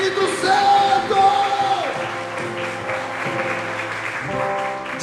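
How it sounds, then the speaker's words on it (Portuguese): Congregation applauding during a Catholic-themed Portuguese sermon, a burst of crowd clapping at the start that fades out, with a voice and music-like tones over it. "Pode aplaudir, aplauda a Virgem Maria"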